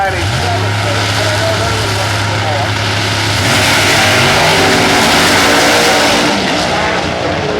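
A drag racing car at the 2007 IHRA Presidents Cup Nationals roars loud and close as the driver goes on and off the throttle, the engine note dropping and surging in uneven pulses under an announcer's commentary.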